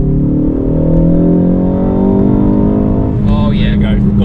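A Mountune M330 MK4.5 facelift Ford Focus ST accelerates hard in second gear, its engine note climbing steadily and loud from inside the car before easing off near the end, when a voice speaks over it.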